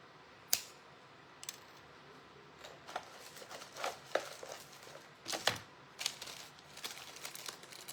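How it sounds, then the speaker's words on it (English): Scissors snip through drinking straws for a patriotic craft. The cuts are faint, close and come one at a time at irregular intervals against quiet room noise. "And then the straws I'm just going to cut."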